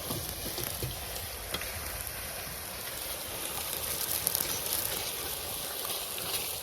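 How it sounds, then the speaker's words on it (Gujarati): Chopped garlic stirred into hot jaggery syrup for lashan pak in a village kitchen, a soft continuous sizzle and bubbling with faint stirring scrapes, fairly quiet and steady without any talk. "તો હવે પછી આપણે લસણ જે આપણે કટિંગ કર્યું હતું એ આપણે નાખી દઈશું અને સારી રીતે મિલાવી દઈશું"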